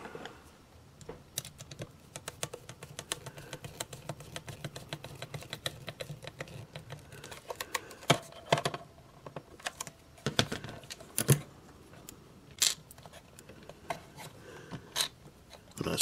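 Screws being driven into a homemade static grass applicator, a series of short rasping, clicking bursts from close by with uneven gaps, growing sharper and louder toward the end, with no voices.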